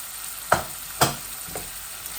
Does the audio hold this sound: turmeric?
yes